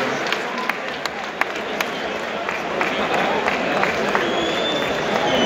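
Audience applause at a French sports club's 35th anniversary season opener, a broad continuous wash of clapping and crowd noise with sharp individual claps standing out, loud and sustained.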